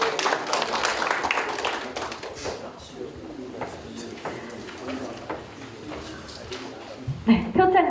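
An audience claps for an award recipient at an industrial complex ceremony in a lecture hall, steady moderate clapping running the whole time, with a louder thump near the end.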